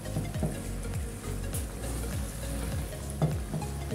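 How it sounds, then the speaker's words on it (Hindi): Chicken being bhuna-fried in a karahi for Shinwari chicken karahi, a continuous sizzle with repeated rhythmic scraping stirs of a spoon against the pan, close and moderate. "अच्छे से हम इसको भूनेंगे।"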